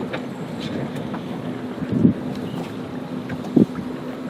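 An all-electric sailboat sailing along the Okeechobee Waterway, with steady wind buffeting the microphone over a low hum and two brief knocks or thumps, and no voices.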